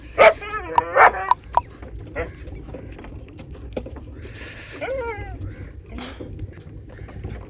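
Several dogs bark in quick bursts near a rural wheat field, loud yelps early on, then scattered whimpers and yips fading into softer background noise with a bird or two.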